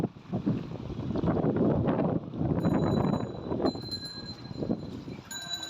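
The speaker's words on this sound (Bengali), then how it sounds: "ঘূর্ণিঝড় রেমালের কারণে দেখতে পাচ্ছেন মুষলধারে থেমে থেমে বজ্রসহ দমকা হাওয়ার বৃষ্টি হচ্ছে।" Heavy cyclone rain with gusty wind from Cyclone Remal on a flooded Kalyanpur road, a dense, loud, continuous wash of noise buffeting the microphone, with faint whining tones late on.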